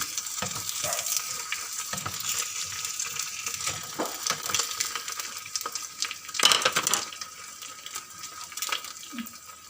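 Soft, steady sizzling of an egg frying in a small pan, with occasional scrapes and clicks of a utensil, fairly quiet and close.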